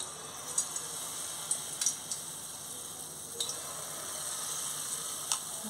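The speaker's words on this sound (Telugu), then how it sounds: "మీడియం ఫ్లేమ్లోనే వేపుకోవాలి. ఇలా చిన్న బాల్స్ లాగా వేసుకోవాలి." Small balls of mango-flour sweet bonda batter deep-frying in hot oil over a medium flame, a soft steady sizzle with occasional light pops and spatters.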